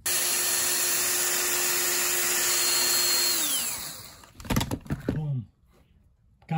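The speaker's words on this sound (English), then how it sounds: "take my drill and go right into the center of the rivet and drill it until it pops and snaps" A power drill bores out rivets, whining steadily at high pitch for several seconds before winding down, followed by a few sharp clattering knocks and snaps as the rivet gives way.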